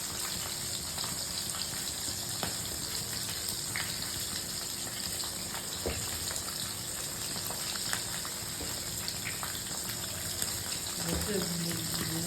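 Fish going into a pan with boiled leafy greens and frying there, a steady broadband sizzle and bubbling that holds for the whole stretch, with a few soft clinks and a thicker gurgle near the end.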